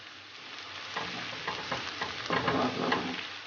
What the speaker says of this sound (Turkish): Şimdi bunları ocağıma al pembeleşinceye kadar 15 dakika kadar iyice kavrulacak.